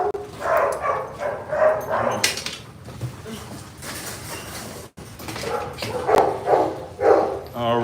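A dog whimpers and gives short barks indoors on a rainy day, mixed with a person talking and calling to it, with brief clatter between the sounds.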